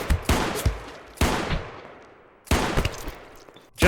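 Three sharp, loud gunshots from a Python revolver firing AP ammo in the video game Goobstation ring out, spaced about a second apart, each followed by a fading echoing tail.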